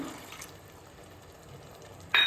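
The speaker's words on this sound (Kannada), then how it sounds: "ಇದ್ರ ಜೊತೆಗೆ 1 ಕಪ್ ನೀರು ಹಾಕ್ಕೊಳ್ಳಿ." A cup of water poured into coconut milk gravy for a Bengaluru-style veg biryani gives a soft, steady liquid trickle, quiet and close, before a brief louder splash at the end.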